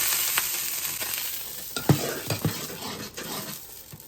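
Dosa batter sizzling on a hot cast iron tawa, a steady frying hiss throughout with a few brief scraping and clinking touches near the middle.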